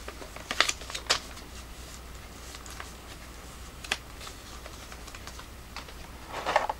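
A sheet of paper being folded by hand after a flashlight bundle unboxing, giving a few quiet crisp crinkles and creases spaced across several seconds, close by with no talking.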